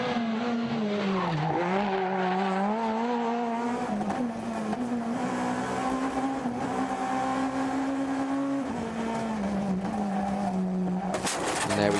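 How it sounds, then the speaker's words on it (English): A rally car at the IRC Rally Islas Canarias 2012 slides on a stage with its rear end hanging out, the engine holding a steady loud drone with pitch dips as it drifts, a brief burst near the end. "You can hear the rear end is hanging off the car."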